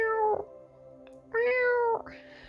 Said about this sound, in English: I look out and I hear a meow